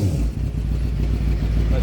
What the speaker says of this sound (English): Give you a small little cold rev.